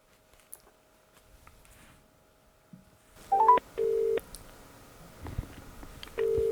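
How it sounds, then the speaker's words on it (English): Phone dialing tones while placing a test call through a Riwbox XBT-780 budget Bluetooth headset, quiet room at first, then a quick burst of keypad beeps followed by several steady, loud ring tones in sequence. "let's call the wife and test the call"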